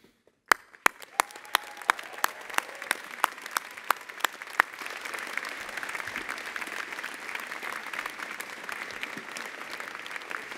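A large graduation convocation audience breaks into applause, opening with a few sharp, distinct claps and swelling into sustained, dense clapping heard from a distance in a big hall.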